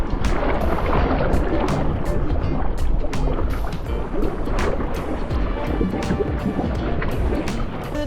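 Boat sailing fast through waves, with continuous rushing water and wind noise close by and repeated splashes and slaps of the hull against the surf.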